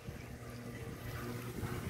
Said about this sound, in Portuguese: Olha a água caindo aqui